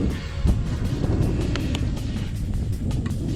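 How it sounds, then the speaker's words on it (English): Wind buffets the microphone in steady, rough gusts at an outdoor field where a discontinued model jet is flown, with faint brief clicks over the rumble. "This wind is not helping things at all."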